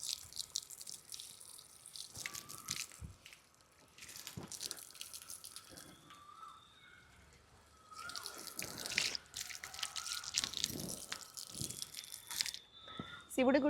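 Water splashes and trickles from a tap at a Shiva temple near home, in uneven bursts with quieter dripping between them. A voice speaks over it at times.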